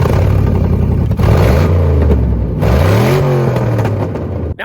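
A loud Corvette engine revs up and down repeatedly, roaring close by with rising and falling pitch.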